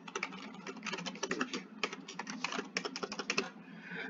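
Login credentials are typed on a computer keyboard in a quick, uneven patter of close, soft keystrokes with short pauses, and no talking.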